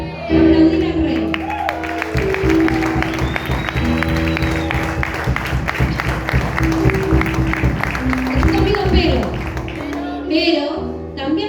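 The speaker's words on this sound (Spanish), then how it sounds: "Aplaudir al Rey." A church congregation applauds in a sustained wash of clapping and crowd noise throughout, mixed with music and voices.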